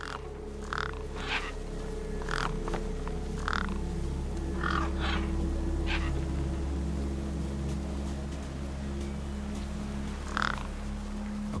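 Birds caw in the Beyond a Steel Sky video game: a string of short, harsh calls spaced a second or two apart, moderately near, over a steady low ambient hum.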